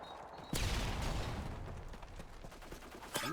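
A burst of rapid gunfire from a Call of Duty multiplayer match opens sharply, followed by sustained rattling shots and scattered impacts, with a final loud crack near the end.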